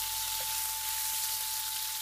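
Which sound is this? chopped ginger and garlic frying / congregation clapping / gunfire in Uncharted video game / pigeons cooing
chopped ginger and garlic frying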